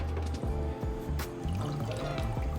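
Fresh pasta drops into a pot of hot water in a professional pasta kitchen, making gurgling splashes and trickling, bubbling water with a few soft plops, close and moderately loud.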